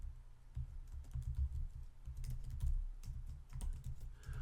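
Fingers type HTML tags on a computer keyboard, a steady, close patter of clicking keys with small pauses, with no one speaking.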